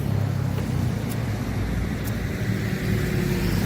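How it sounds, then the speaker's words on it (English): Street traffic in the residential Ipanema neighborhood of Rio de Janeiro, Brazil, a steady nearby roar of passing cars and engine rumble with tire noise, continuous and fairly loud. "you don't want to hear too much traffic"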